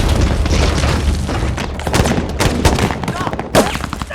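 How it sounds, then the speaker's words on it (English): Battle-scene gunfire in the film 13 Hours: loud, dense bursts of automatic weapons and heavy booming impacts, close and continuous, with shouted voices mixed in. "They're shooting at you!"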